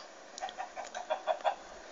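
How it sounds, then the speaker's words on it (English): Chickens cluck in a Minecraft Pocket Edition game, a rapid run of soft, even clucks close by with no talking. "Now you can hear my chickens."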